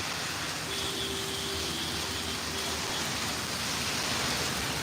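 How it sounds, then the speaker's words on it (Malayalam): Heavy rain pours steadily, a dense, unbroken hiss of water falling on surfaces, with a faint tonal hum beneath. "നല്ല മഴയാണ് പുറത്തേക്ക് പോകാൻ പറ്റുന്നില്ല"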